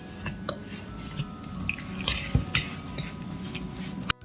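Graham cracker crumbs being stirred together with sugar, cinnamon and butter in a bowl for a New York cheesecake crust, giving scraping, clinking utensil sounds against the dish in a steady, close, uneven rhythm with no talking.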